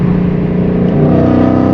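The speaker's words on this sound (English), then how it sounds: "I think the exhaust is pretty loud" A car's loud exhaust drones steadily under acceleration, heard from inside the cabin as a constant low rumble with a slight rise in pitch, nothing else over it.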